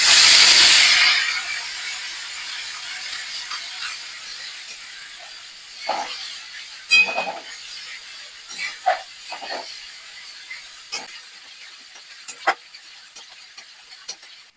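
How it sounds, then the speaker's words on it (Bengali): Ginger garlic paste dropped into hot oil for a chicken kofta curry bursts into a loud hiss that quickly dies down, followed by scattered crackles and pops, close by and without talk. "এবার দিয়ে দেবো আদা রসুনের পেস্টটা।"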